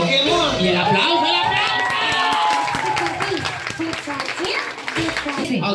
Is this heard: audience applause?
yes